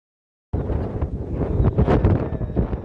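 Strong wind buffets the microphone outdoors near a small waterfall in drizzle, a loud broadband roar that starts abruptly after a brief silence and gusts unevenly.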